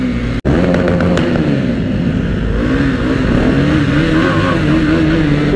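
Kawasaki Z900 motorcycle engine roaring steadily inside an underpass during a wheelie, loud and close, with a sustained revving drone, echoing, and a brief sharp dropout near the start.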